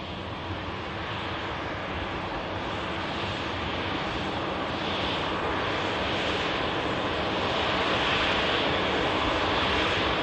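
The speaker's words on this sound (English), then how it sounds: "we've also got the TUI Dreamliner pushback and just beginning its taxi out" A TUI Boeing 787 Dreamliner taxis out after pushback at Manchester Airport, its jet engines producing a steady, loud broadband roar that grows slightly stronger over the clip, with no voices.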